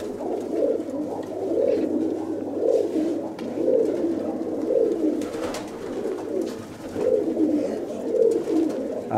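Several pigeons coo in a loft in Kozani, the soft, low, rolling calls repeating in a steady rhythm at close range with no talking.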